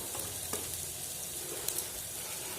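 Chicken biryani masala with chili powder and rock salt sautés in a pan, giving a steady quiet sizzle with a few faint scrapes of a stirring spoon.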